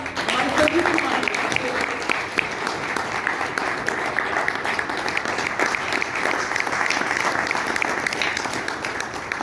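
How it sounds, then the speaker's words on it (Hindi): Loud, dense applause from a large audience in a hall at a network marketing seminar, continuous and even in level for several seconds with no pause or voices breaking through. "एक बार चाहूंगा उनके लिए जोरदार तालियां"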